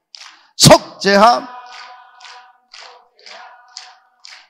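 Hand claps from a church congregation at a Korean revival dawn service, a loud burst of clapping followed by a steady rhythm of evenly spaced single claps under sung hymn singing.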